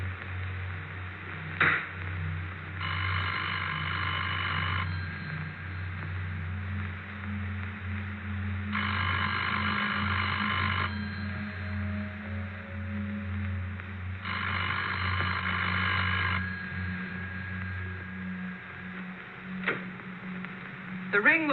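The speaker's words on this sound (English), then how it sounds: "The party at this number will hear a clear, evenly spaced ring that sounds like this." Evenly spaced ring of an old Bell System telephone as heard by the called party: three long ringing bursts of about two seconds each with quieter gaps between them, over a steady low hum on a vintage recording.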